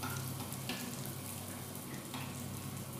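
Sfenj dough frying in hot oil gives a steady, dense sizzle with a faint crackle. It stays at an even level throughout, close and fairly quiet, with no talking.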